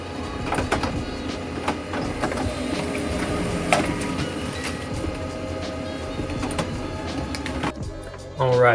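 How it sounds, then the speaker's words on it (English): An HP LaserJet Pro MFP M227 mono laser printer runs a wireless print job, its feed rollers and mechanism whirring and clunking steadily with rhythmic ticks, ending in a louder mechanical shift near the close. "we'll conduct a wireless printing speed test using the HP Smart app to see how it performs."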